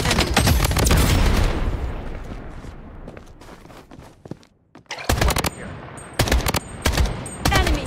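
Rapid bursts of automatic gunfire in the mobile shooter Blood Strike, loud and close, with a short lull before several more sharp volleys and a few footsteps.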